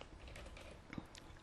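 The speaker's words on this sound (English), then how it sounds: "So I start typing" Computer keyboard keys tapped in a quick, light run of typing, close and fairly quiet, with a couple of slightly louder clicks near the end and no talking.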